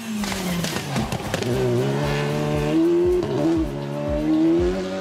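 A Skoda rally car on the asphalt stages of the Vosges rally, its engine held at a loud, steady drone with rising and falling revs and gear changes, the tires hissing on the tarmac.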